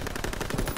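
Sustained machine gun fire from a World War II battle in Call of Duty WW2, a dense continuous rattle of shots filling the short stretch at steady loudness with no talk.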